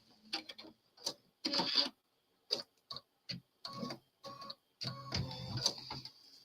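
An embroidery machine finishes stitching a tumbler quilt block in a run of clicking, whirring bursts separated by short pauses. The rhythm is irregular and the sound is close and clear, with no voices.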